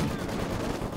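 A machine gun squad in Company of Heroes fires a continuous rattle of shots, dense and fairly loud, under game battle noise.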